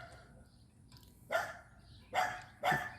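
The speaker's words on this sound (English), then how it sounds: "An angry dog because there's a cat standing behind me." An angry dog gives three sharp, loud barks in quick succession, set off by a cat standing nearby, over a quiet background.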